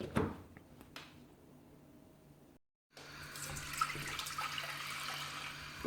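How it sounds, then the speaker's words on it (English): Stock poured from a container into a cooking pan for beer, bread and cheese soup, a soft running liquid splash that starts quietly, breaks off briefly, then resumes as a steadier, fuller pour. "I'm putting the stock into the pan"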